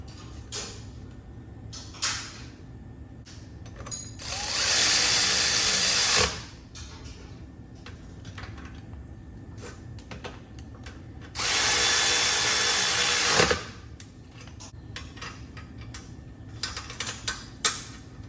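A power tool bolts up a brake caliper on a Kawasaki four wheeler, running in two loud sustained bursts of about two seconds each, with quieter clicks and handling clatter around them.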